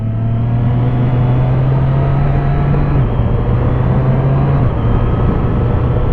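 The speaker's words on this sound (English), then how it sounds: "I do love this quick shifter though, that is very nice. Very nice quick shifter, very smooth." A 2024 Triumph 765RS naked triple motorcycle cruises with a steady, loud engine drone and wind rumble, its pitch dropping sharply twice in clean quick-shifter gear changes, with no voices.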